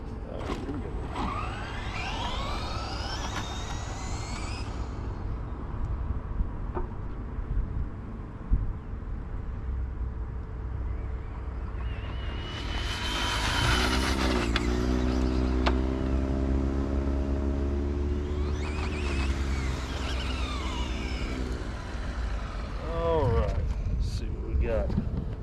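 A Traxxas Drag Slash RC car on a 2S battery makes a high, rising electric motor whine in several bursts that swell and fade as it speeds past, over steady wind rumble.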